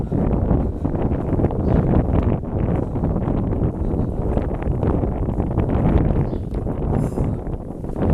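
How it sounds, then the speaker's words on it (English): Strong gusting wind in Bracciano, Italy, buffets the microphone, producing a loud continuous low rumble that rises and falls throughout. "Windy."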